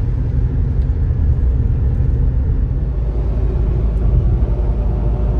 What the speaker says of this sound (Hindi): अब हम लोग चला रहे हैं गाड़ी